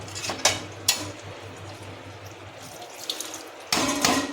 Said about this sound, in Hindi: हम पकने भर का पानी डाल रहे हैं कि पक जाए, उसी में हो जाए।